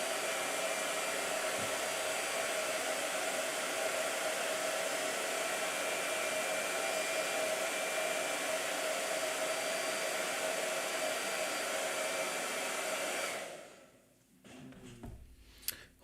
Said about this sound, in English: Let me hit the blow dryer real quick